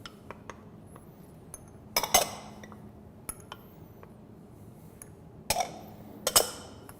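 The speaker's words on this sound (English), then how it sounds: "We're going to add all of our cheeses and stir until they're melted." A spoon stirs cheeses into a roux sauce in a pot for macaroni and cheese. Sparse metallic clinks and scrapes come in irregular bursts over a quiet background.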